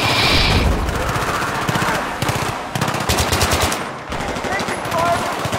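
Battlefield 3 gunfire, with rapid bursts of automatic fire in several loud volleys separated by short pauses amid game ambience.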